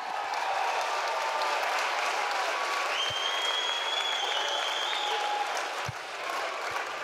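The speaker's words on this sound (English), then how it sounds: "Give another big round of applause" Steady applause rolls through the crowd at the RDS Dublin Horse Show international jumping arena, moderately loud throughout, with a whistle-like tone rising above it midway.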